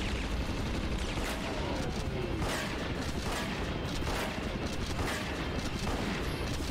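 Sustained gunfire from the action game Bad Boys: Miami Takedown, a dense, continuous rattle of shots and impacts layered over a loud, busy game soundscape with no pauses.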